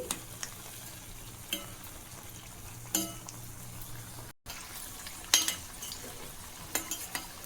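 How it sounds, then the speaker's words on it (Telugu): Egg bonda deep frying in hot oil, a steady low sizzle running throughout with occasional clinks and stirring scrapes of a utensil against the pan. "అన్నీ అయితే డీప్ ఫ్రై చేసేసుకుందామండి"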